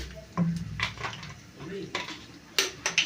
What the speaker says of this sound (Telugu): బాండి పెట్టుకున్నాను ఆయిల్ వేసుకుంటున్నాను